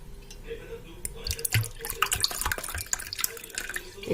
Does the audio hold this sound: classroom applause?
no